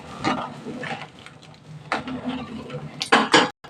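A spoon scrapes and clinks against a pot while curry with onion and curry leaves is stirred, producing a few short metallic knocks and scraping bursts near the end, close and clear.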